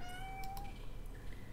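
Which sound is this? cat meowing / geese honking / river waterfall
cat meowing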